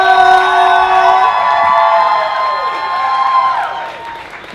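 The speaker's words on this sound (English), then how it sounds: "You're building energy, you're clapping. Give it up for Ana Cristina!" A crowd at a live poetry slam show applauds and cheers for a poet, loud and sustained, with whoops and high voices over dense clapping that slowly fades toward the end.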